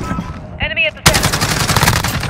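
Automatic gunfire in a Modern Warfare multiplayer deathmatch, a loud rapid burst that erupts about a second in and keeps rattling, preceded by a short shouted voice line from the game.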